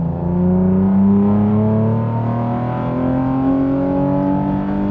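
A Chevrolet Camaro muscle car engine revving loudly and close, a sustained deep growl with rising harmonic tones that climb steadily over several seconds without a break.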